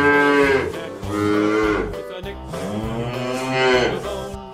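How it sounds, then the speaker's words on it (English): A cow gives two long, drawn-out moos close by, each rising and falling, with a short pause between them. "Cow."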